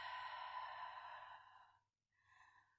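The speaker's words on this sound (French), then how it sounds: "Et on expire." A person exhales steadily during a Pilates back exercise, a long airy breath out for nearly two seconds, then after a short pause a second softer exhale, close and alone.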